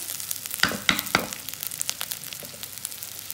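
Vegetables with carrot are sautéed in a pan for instant pasta, a soft crackling sizzle with a few sharp spatula scrapes and taps early on, no talk.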